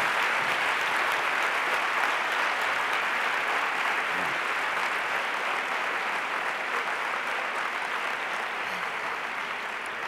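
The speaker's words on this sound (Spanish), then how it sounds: "Te mandamos otro gran aplauso y también para tu mami, para tu madre" Steady, dense audience applause at a family-education event in Las Palmas, sustained and even for about ten seconds without a break, no voices standing out.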